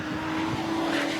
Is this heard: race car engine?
yes